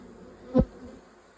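A honey bee from a rescued swarm in a hive buzzes in one brief pass, swelling loudly as it flies close to the microphone and then fading against a faint background hum.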